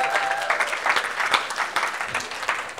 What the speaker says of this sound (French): On peut applaudir Talita pour son arrivée